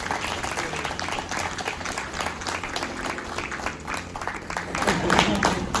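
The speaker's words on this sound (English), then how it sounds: "give him a nice round of applause for putting up with it" An audience at a graduation day session breaks into a round of applause for an instructor, a moderate crowd clapping steadily at some distance, swelling near the end, with a voice speaking over it.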